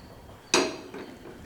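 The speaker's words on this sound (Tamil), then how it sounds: "இப்போ நம்ம குக்கர் வச்சிடலாம் அடுப்பில்." A pressure cooker is set down on a kitchen stove while mint rice and meal maker gravy are being made, giving one sharp metallic clank with a short ringing tail and a fainter knock just after, close and alone.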